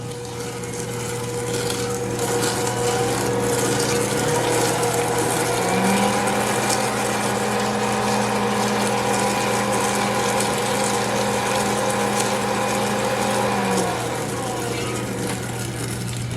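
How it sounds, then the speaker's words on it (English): An Ankarsrum stand mixer runs steadily while mixing gingersnap cookie dough made with fresh milled flour, a constant motor hum with a soft rhythmic churning throughout. "So I guess it helps to go ahead and turn off the mixer or slow it down while I'm talking as well."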